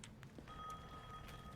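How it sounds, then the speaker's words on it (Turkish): A telephone rings in the Resident Evil Village video game, a steady electronic ring tone sustained at moderate level over a low background rumble, with no talk. "Telefon çalıyor."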